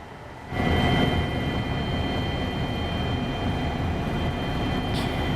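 A helicopter flying over Mecca gives a loud, steady rotor and engine drone that swells in abruptly and then holds without a break, with no voices.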